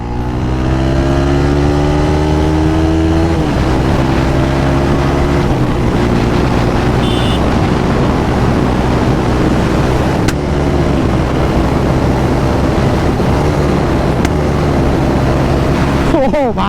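A 4-valve motorcycle revs loudly and close, its steady engine drone broken by sharp exhaust pops as the kill switch is flicked off and on, with a voice talking over it.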